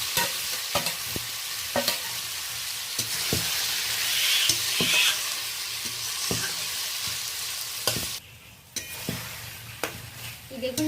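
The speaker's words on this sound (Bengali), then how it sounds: "চিংড়ি মাছের মিশ্রণটাকে ভালো করে নেড়ে নিচ্ছি" Prawn mixture stirred and fried in a kadai for a bottle-gourd-leaf pakora stuffing, with loud continuous sizzling punctuated by repeated sharp spatula scrapes and taps against the pan.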